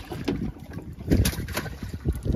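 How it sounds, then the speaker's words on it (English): Strong wind buffets a small fishing boat on inshore Mississippi waters, a steady roaring rush with gusty surges and low rumbling microphone buffeting throughout. "The wind's tearing us up"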